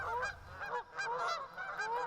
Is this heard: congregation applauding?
no